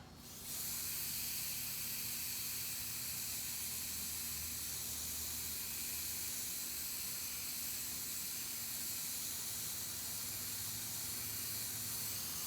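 Steady, faint hiss of an airbrush spraying paint while painting an eagle design on a car license plate, continuous and unbroken after a brief start, with no talking.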